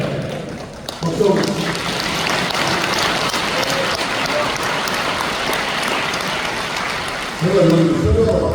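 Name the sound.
audience applause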